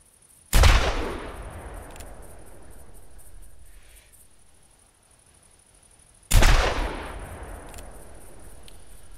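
Two .45 Long Colt revolver shots fired several seconds apart in theHunter Classic, each a sharp, loud crack trailing off in a long outdoor echo, with faint insect chirping between them.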